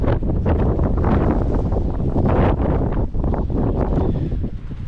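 Wind gusting at a mine shaft site, loud continuous buffeting and rumbling across the microphone with dusty, blowing roar and uneven swells, close and filling the whole stretch.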